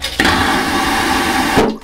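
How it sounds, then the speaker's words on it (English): A vacuum toilet aboard the Disney Wish cruise ship flushes with a loud, close, powerful whoosh that lasts just over a second and ends in an abrupt pop-like cutoff. "We gotta do the flush test."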